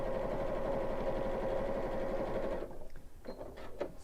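A sewing machine run by foot pedal stitches rapidly and steadily for a couple of seconds, then stops, leaving a few faint clicks and handling sounds.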